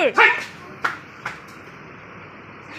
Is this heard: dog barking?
yes